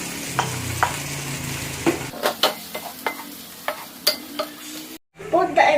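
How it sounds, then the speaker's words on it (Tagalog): Onion and mushroom frying in a pan for a carbonara: a steady sizzle with scattered sharp pops and crackles and occasional stirring clicks close by, before a brief silence and a burst of hissing at the end. "And cook the onion until soft. Next, the mushroom and the honey."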